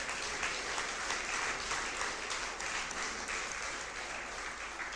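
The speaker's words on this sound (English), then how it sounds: "Give them a big round of applause," Audience at a college reunion applauding the faculty, principal and staff, a sustained moderate round of clapping from a crowd.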